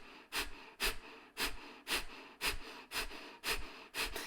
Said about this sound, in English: Strong, forceful exhalation out through the nose.